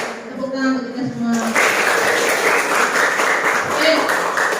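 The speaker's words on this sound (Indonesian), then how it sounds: "Tepuk tangan untuk kita semua." A group claps together, a dense burst of applause building after a brief spoken moment at the start, steady and fairly loud.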